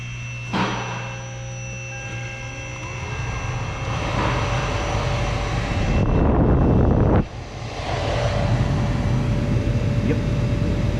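A 2006 Toyota Sienna cabin blower motor runs with a steady fan whoosh and hum throughout, changing speed partway through, with brief knocks and no speech.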